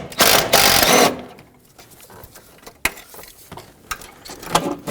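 A ratchet works a 13mm bolt loose on the alternator of a 2012-2020 Nissan Pathfinder, one burst of rapid clicking followed by scattered single clicks and tool knocks, close and fairly loud.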